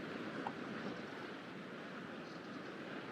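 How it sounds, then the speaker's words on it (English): Sea waves crash on rocks inside a calanque, a continuous broad wash of surf echoing off the stone walls, fairly near and steady with no talking. "not only do you hear the waves crashing on the rocks, but you hear the echo of them too"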